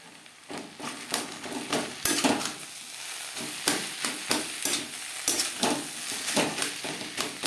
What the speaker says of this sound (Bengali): বিট গাজরের সাথে ম্যাশ করে রাখা আলুটা ভালো করে মিক্সড করে দেবো